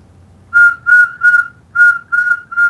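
A person whistles six short, clear, steady notes at the same pitch in a rhythmic series, loud and close against a quiet background.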